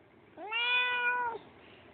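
A single drawn-out meow, clear and fairly close, rising at the start and holding steady for about a second before cutting off, with quiet surroundings.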